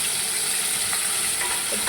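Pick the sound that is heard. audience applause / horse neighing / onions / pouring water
onions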